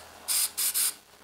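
Black spray paint is sprayed onto an MG car part in three short hissing bursts, the last two close together, with quiet gaps and no talking.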